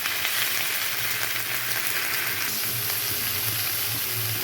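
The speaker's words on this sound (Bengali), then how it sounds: "লাউগুলোকে ভালো করে ভেজে নিতে হবে।" Bottle gourd pieces frying in a pan give a steady, loud, close sizzle that continues without pause, with no voices.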